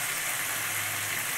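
Chingri masala with chili powder and a splash of water sizzles steadily in a pan while being sautéed, a continuous close hiss with no pauses.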